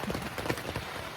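Rain patters steadily on a tent at a hiking camp, a close, continuous spatter of drops with irregular louder taps over a constant wash.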